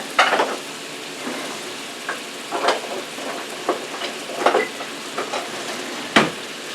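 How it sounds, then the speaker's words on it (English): A wooden spoon stirs flour into about a third of a cup of melted butter for a scratch gumbo roux, with soft scraping strokes and light sizzle in irregular bursts, close and fairly quiet. "Stir that in with a wooden spoon."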